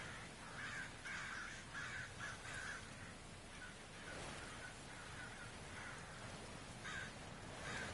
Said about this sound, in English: I hear the birds.